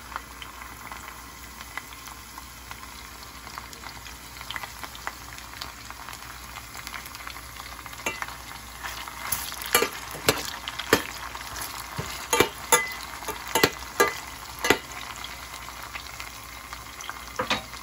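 Green onion stir-fried in a hot pan gives a steady, close sizzle with scraping stir strokes, and sharp crackles and pops build in the second half.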